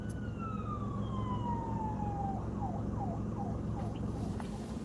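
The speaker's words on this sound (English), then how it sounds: "And ambulance." An ambulance siren passes along a street, its wail sweeping down in pitch and then warbling in quick rising-and-falling cycles. It sounds fairly loud over a steady low rumble of traffic.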